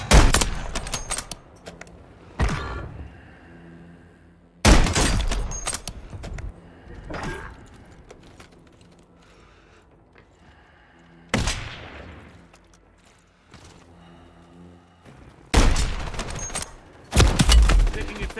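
Heavy bursts of automatic gunfire in Call of Duty Warzone crack out in several separated volleys, loud and close, with quieter gaps of ambient game noise between them and a voice speaking briefly.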